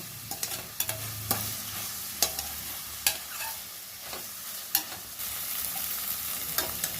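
Onions and brinjal fry together in a pan for a curry, with a soft continuous sizzle broken by repeated sharp spoon clicks and scrapes as the pieces are stirred, close and without talk.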